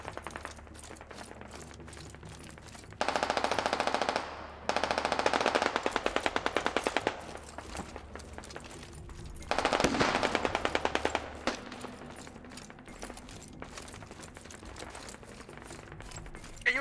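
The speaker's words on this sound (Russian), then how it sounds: "Подожди, кто-то стреляет рядом." Nearby gunfire in the military shooter game Squad: two long, loud bursts of rapid automatic fire, then a shorter burst, set against quieter scattered shots and a low background rumble.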